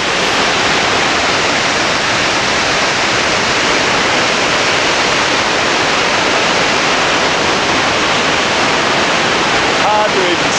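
A steady, loud roar of falling water, broadband and constant throughout, like standing close to a powerful waterfall in the Rockies, with mist spraying.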